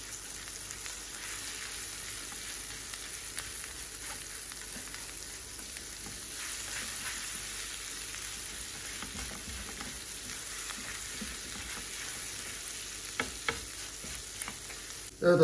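Tomato paste sizzles in melted butter in a pan with a soft, even crackle and faint stirring scrapes. The sound stays low and continuous, with a sharper clatter at the very end.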